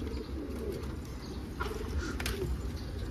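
Pigeon sounds from a coop with a chick: soft, close cooing and bird calls over a constant low background rumble, brief and fairly quiet.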